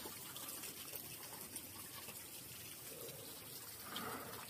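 Water runs and trickles steadily at an abandoned site overgrown and returned to nature, a faint continuous wash of flow with no voices.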